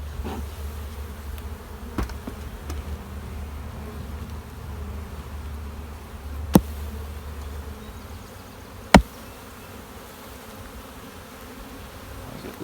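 Honeybees from an overwintered nuc hive drone in a steady, low, close buzz throughout, with a couple of sharp clicks and knocks from handling the hive.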